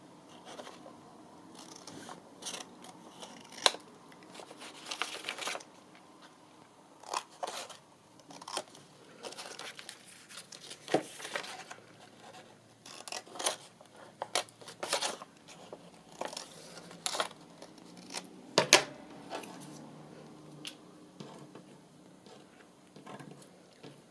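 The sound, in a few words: cutting off the corners with scissors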